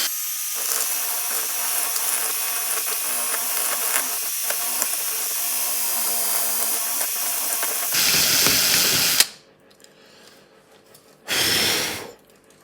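An electric drill cuts a trench in a TT120 model railway layout with a loud, steady, hissing grind for about eight seconds. A brief louder burst follows, then a pause and one short final burst.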